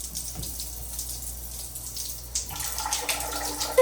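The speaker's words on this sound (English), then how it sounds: "And then we can turn on the shower." Water rushing from a roll-in accessible shower in a Holiday Inn Express hotel room in Voorhees, NJ, a steady close hiss that swells louder partway through, with no talking.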